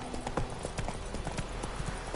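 Hooves of the horse Roach clip-clop at a quick, steady gallop in a video game, close and even, with faint background ambience and no speech.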